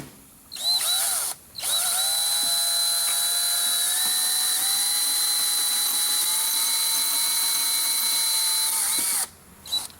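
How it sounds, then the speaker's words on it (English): A power drill boring out a metal part on a Volkswagen Tiguan winds up and grinds steadily with a high whine, pausing briefly at the start and spinning down near the end. "I'm sure I can drill this out"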